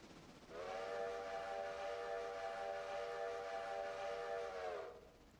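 A train's steam-style whistle sounds one long sustained toot at a railroad crossing, rising sharply and holding steady for about four seconds before cutting off, loud and alone.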